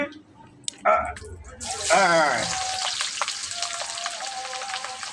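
Chicken and onions frying in a pan, a soft sizzle that swells after a few clattering stirs and then runs steadily, with someone talking over the cooking.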